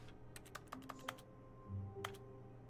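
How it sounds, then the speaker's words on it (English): Keyboard typing clicks triggered on mouse clicks in The Stanley Parable, a quiet burst of rapid key taps followed by a single later tap, with no talk. "Why when I click anywhere it makes a keyboard sound?"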